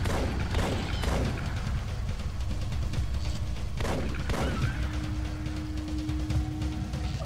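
Gunfire in the horror video game Kabus 22, a few scattered sharp shots standing out from a low rumbling background, fairly quiet with no talk.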